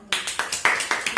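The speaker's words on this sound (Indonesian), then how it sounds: "Tepuk tangan untuk kelompok 2" A few people clapping for a student group in a classroom peer-teaching session, about six sharp claps in an uneven rhythm, close and fairly loud, with a faint voice under them.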